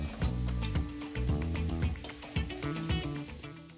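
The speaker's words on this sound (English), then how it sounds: "Let's go ahead and put them in the bowl and start frying up the rest." Shrimp sizzling and crackling in a hot frying pan, a busy frying hiss mixed with tonal background music.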